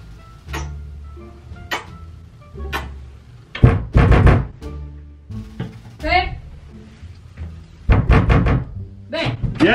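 Knocking on a locked door: a few sharp raps spread through the clip, mixed with people talking close by.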